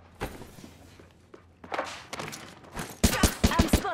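Gunfire in an Apex Legends ranked match: scattered distant shots and thuds, then a loud close burst of rapid automatic fire in the final second.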